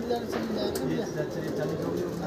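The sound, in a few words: flock of pigeons during practice flight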